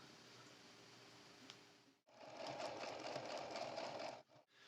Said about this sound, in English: I'm going to put right sides together and sew.